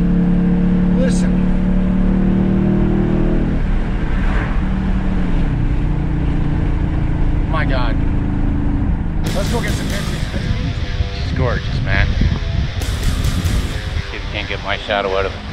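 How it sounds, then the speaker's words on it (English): A 2019 Dodge Charger SRT 392 Scat Pack V8 exhaust roars during a test drive, with low engine drone building and sharp barks on the gear changes, close and loud, while someone talks over it. "that exhaust just barks on the gear changes"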